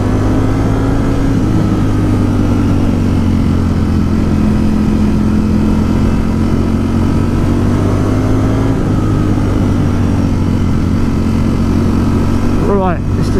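A Ducati Streetfighter V4 S, a 2020 model, is ridden on the road in sport mode. Its engine drones loud and close as a steady hum under heavy wind rush, with a brief rising rev near the end.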